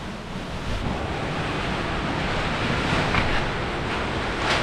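Sea waves washing against a rocky shore on the Seychelles islands of La Digue or Praslin, a loud continuous surf roar with wind buffeting the microphone and no talking.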